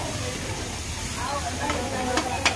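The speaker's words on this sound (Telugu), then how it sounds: "ఇప్పుడు వచ్చేసి కొంచెం వేగాలి." Turmeric fries in a hot pan for a country chicken fry, giving a steady close hiss with a few faint stirring clicks near the end.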